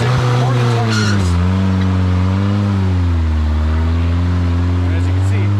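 Turbocharged, injected Suzuki-based rock crawler buggy with a Ford 9-inch rear axle and 37-inch tires, its engine droning loud and steady at close range, pitch rising and falling through a rev and easing off.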